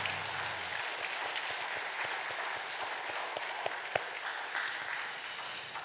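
Members of a Korean church congregation clap together at a Sunday worship service, an even, sustained round of applause with a few sharper individual claps standing out near the end.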